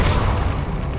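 A Confringo blasting spell from Hogwarts Legacy bursts as a loud, rumbling boom, dense noise that fades slightly over a second.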